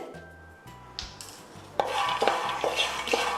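Makhana (fox nuts) dry-roasting with salt in a pan, stirred with scraping and light clattering strokes that grow busier after the first second, over a low steady background tone.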